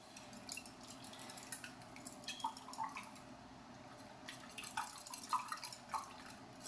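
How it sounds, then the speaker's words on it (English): Faint, quiet clinks and light taps of a whisk against a bowl while mixing a breakfast batter, irregular soft scraping ticks with no talk. "So I can just whisk this together."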